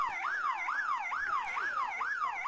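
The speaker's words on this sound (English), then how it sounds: "But there is the full-time siren." Full-time siren at a schoolboy rugby league match, a loud wailing tone that rises and falls in regular cycles about every half second, heard alone without voices.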